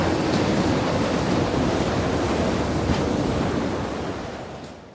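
Stormy sea with heavy waves, a loud roaring wash of surf and wind that holds steady and then fades away toward the end.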